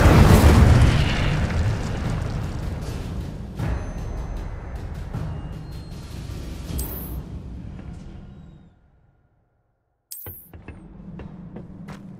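The Incendio fire spell cast in the video game Hogwarts Legacy: a heavy, rumbling blast that fades over several seconds, then near silence, then a sharp second burst followed by a lower rumble.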